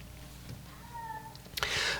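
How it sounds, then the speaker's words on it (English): Domestic cat wailing in the background, a drawn-out faint meow rising and falling, followed by a brief burst of rustling noise at the end, quiet and distant with no talk. "I don't know if you can hear my cat Pudgy wailing in the background"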